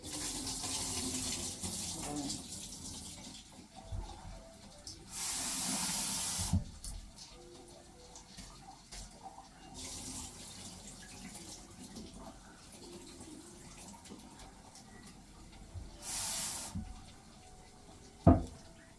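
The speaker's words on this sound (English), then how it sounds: "So I'm going to rinse it a little" Tap water runs into a kitchen sink while dried beans are rinsed, a steady splashing flow that surges louder in a few bursts, with a short sharp clink near the end and no talking.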